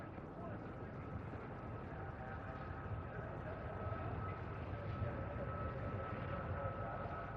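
A Kestrel Mark I jump jet flies at the Farnborough air show in 1990, its engine a steady, continuous roar with a sustained whine, heard at a distance under a commentator's voice.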